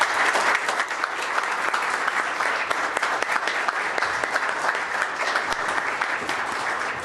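Audience applause at a Glendale city council meeting, steady dense clapping from a room full of people lasting several seconds, close and even throughout.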